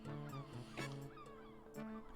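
A cartoonish duck honks in the video game Lucy Dreaming, several quiet nasal calls in short bursts over a soft musical backdrop, with no talking.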